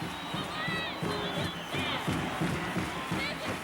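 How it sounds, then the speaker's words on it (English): A large stadium crowd at a 1978 Oklahoma vs Texas college football game roars and cheers continuously, a dense wash of distant voices with rhythmic surges. "Now the Oklahoma crowd has picked up."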